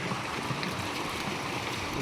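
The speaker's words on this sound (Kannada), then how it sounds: "ನೀರು ನೋಡಿ ಯಾವ ಥರ ಬೀಳ್ತಿದೆ" Water gushing steadily from a borewell on farmland, a dense, continuous rushing splash heard close up with no voices.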